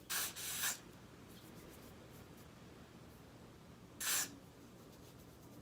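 Two short bursts of aerosol hair spray onto hair edges, a quick double hiss at the start and another single spray a few seconds later, with quiet in between.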